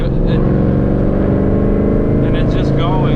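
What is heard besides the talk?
800hp Whipple supercharged Mustang engine revving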